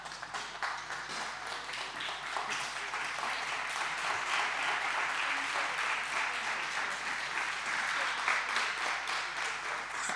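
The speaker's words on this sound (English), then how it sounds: "I'm going to ask everybody to stand up and applaud" Standing audience at a faculty of law human rights celebration applauding at length, sustained many-handed clapping with a steady, slightly rhythmic texture, moderately distant in a large hall, without voices.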